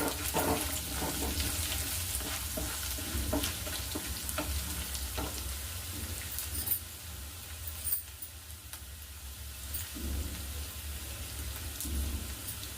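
Cashews fry in oil for mango chitranna, a continuous close sizzle with fine crackles and brief stirring clatters, with no talking.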